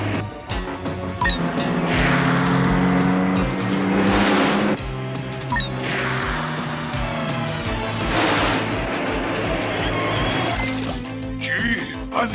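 Cars roar past in a film serial chase, swelling rushes of engine noise mixed with splashing water and crashing, with voices talking over the action.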